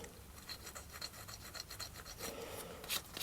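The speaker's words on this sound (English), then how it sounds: "I like these little sanding sticks" Short rasping strokes of a small sanding stick, a quick scratchy back-and-forth rubbing close by, quiet and repeated.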